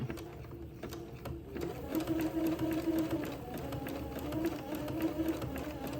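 A sewing machine runs steadily, zigzag stitching lace onto entredeux for a Christmas dress, a continuous close hum that gains a stitching rhythm partway through with no talk.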